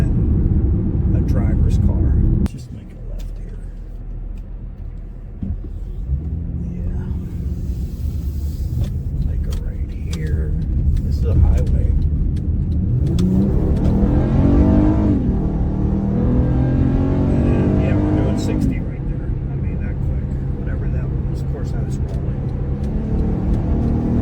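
A first-generation Acura ZDX accelerates hard with a rising engine roar and road rumble, while someone talks over it in the cabin.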